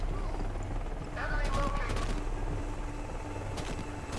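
Scattered gunshots in the Xbox 360 video game Deadlight, a few sharp cracks clustered near the middle over a steady rumbling game backdrop, moderately loud.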